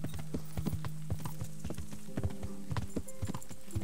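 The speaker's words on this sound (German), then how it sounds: "Wisst ihr was, wir reiten das einfach mal selber." Horse hooves clip-clop in a steady quick rhythm during riding in the video game Kingdom Come: Deliverance, close and continuous, with a faint whinny and mechanical creaks underneath.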